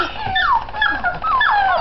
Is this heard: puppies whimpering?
yes